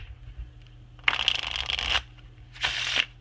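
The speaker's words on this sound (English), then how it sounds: "The riffle shuffle, if you're a magician or something" A deck of playing cards is riffle shuffled twice, a long crisp fluttering burst followed after a short pause by a second shorter one, close and clear over a quiet background.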